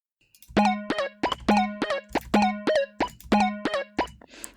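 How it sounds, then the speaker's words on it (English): A repeating synth pattern of short, plucky, buzzy notes with a distorted, gritty edge, played in a steady rhythm. "After that, I have phase distortion,"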